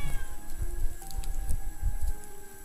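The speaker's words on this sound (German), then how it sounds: "nicht, was die reden, sondern die Katze, die hörst du übelst lange schreien" A cat screaming in a drawn-out yowl, a short, fairly close burst over a busy background of faint taps and hum.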